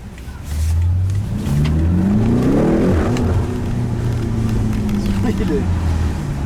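A 575 hp BMW X5M F85 accelerates through city streets in Stockholm, its engine rising in pitch through several gear shifts with brief dips between them, loud and close inside the cabin while a person talks.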